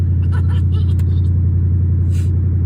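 A stock Ford Panther-platform car with base-model leather seats is driving: steady, loud low engine and road drone heard from inside the cabin, continuous and even throughout.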